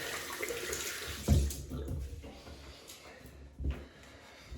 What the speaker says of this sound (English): I'm just going to rinse my hands there.